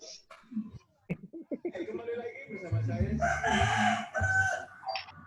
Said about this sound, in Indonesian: Banyak ayamnya ini.